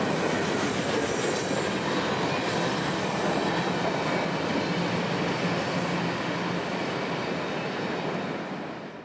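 A freight train rolls past at close range near Folkston, Georgia, led by a locomotive in maroon and gray Northern Railroad paint. A loud, continuous rumble of wheels and cars carries faint squeals and clacking throughout.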